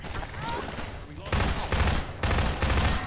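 Shotgun blasts from the video game Half-Life 2 at long range, several heavy booming bursts in a burst-gap rhythm, close and fairly loud.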